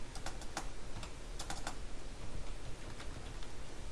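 Fingers tap out code on a computer keyboard in quick, irregular bursts of soft clicks, close and fairly quiet, with no voices.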